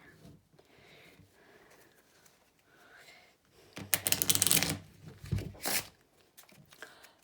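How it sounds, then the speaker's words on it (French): Two piles of playing cards riffle shuffled together for a magic trick: a quick, crisp burst of flicking card edges, followed by a shorter second riffle, after a quiet stretch. "il va mélanger les deux tas à l'américaine"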